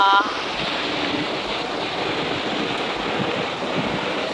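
Heavy rain pouring outside an open window makes a dense, steady roar that stays constant from start to finish, with no speech over it.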